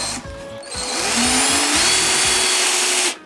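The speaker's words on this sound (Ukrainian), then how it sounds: "виставив муфту на одиничку і попробуємо, чи буде справлятися з малими мебельними саморізами" A Stal cordless drill driver, clutch set to its lowest setting, drives small furniture screws in loud motor bursts. The whine rises and falls between short pauses, with no talking.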